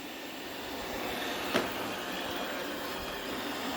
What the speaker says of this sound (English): Yay for the new Roomba.